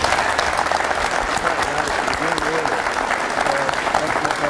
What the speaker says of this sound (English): let's give a roaring applause to Mr.